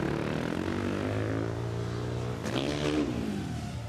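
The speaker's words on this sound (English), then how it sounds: "let's see what Raha's got on that factory Husqvarna" A factory Husqvarna motocross bike at an X Games 2022 quarterpipe high-air contest roars steadily, then its pitch sweeps upward in a sharp rev near the end, loud and alone with no speech.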